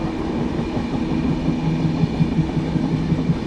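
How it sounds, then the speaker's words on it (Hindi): A train rolls along the railway line near Ambala Cantt station in India, a steady loud rumble with rhythmic clicking of wheels over rail joints, continuous and close throughout. "सामने से कोई ट्रेन आ रही है।"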